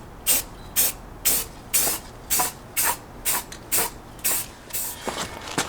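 Repeated short bursts of spray paint from an aerosol can coating a homemade over-the-spare hitch basket for a Jeep TJ, about a dozen evenly spaced hisses, close and clear with no talking.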